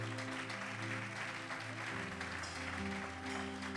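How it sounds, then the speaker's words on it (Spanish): Church congregation clapping steadily and loudly, with a sustained organ or keyboard chord droning underneath throughout. "Aplaude a Dios ahora."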